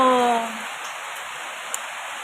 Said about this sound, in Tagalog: Kay gaulan pa man og kusog.